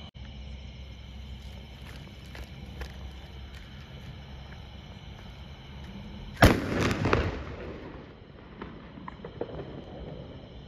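A bullet bomb firecracker set off outdoors for Diwali gives one sharp, loud bang followed by a short crackling, rumbling decay, with steady low background noise before and after.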